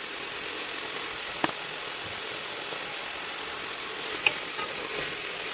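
Stew-beef-sized chunks of pork with a light steak seasoning browning in a hot pan, giving a steady broadband sizzle with two brief sharp clicks, no voices.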